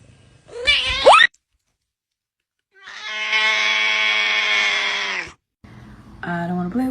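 A cat gives a short rising meow, then after a pause lets out a long, loud, drawn-out wailing meow lasting about two seconds, followed by another harsher, moaning cry.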